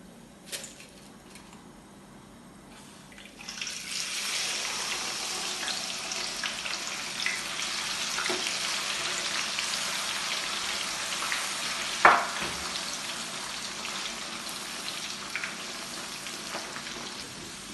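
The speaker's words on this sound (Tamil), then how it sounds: "இப்போ அடுத்து கடலைப்பருப்பு தான் பொரிக்க போகிறேன்" Chana dal sizzles and crackles in hot oil after a quiet start, frying for mixture snack, a steady frying hiss with a sharp clink partway through.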